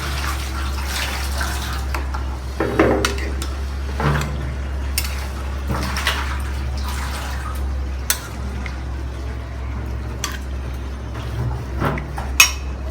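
Meat, onion, garlic and spices stirred in oil in a cooking pot for a bachelor-style kala bhuna beef curry, giving scattered scraping and clinking of a utensil against the pot over a steady low hum, with no talk.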